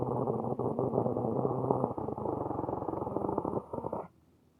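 A voice imitates a loud, guttural monster growl, a sustained rumbling snarl lasting about four seconds and then cutting off abruptly into quiet.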